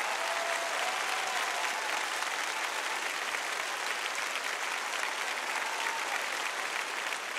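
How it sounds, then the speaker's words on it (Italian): Steady, dense applause fills the room after an X Factor 2023 audition, a continuous even wash of many hands clapping with no voices over it. "Ti voglio lasciare prendere gli applausi."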